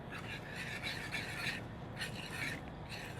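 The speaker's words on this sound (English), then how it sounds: "And then we're just gonna turn this on" Egg whites and sugar whisked in a bowl, a faint rapid scraping and rasping of the whisk in repeated bursts over a low background hum.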